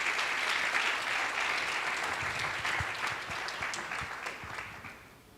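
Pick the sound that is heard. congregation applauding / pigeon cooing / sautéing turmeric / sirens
congregation applauding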